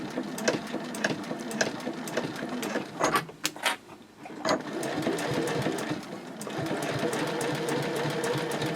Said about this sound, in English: you can sew over that spot a few times